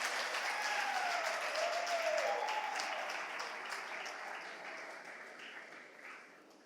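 Audience applause at a youth entrepreneurship talk, a dense clapping wash that starts full and slowly fades, with a faint whistle-like tone drifting through early on.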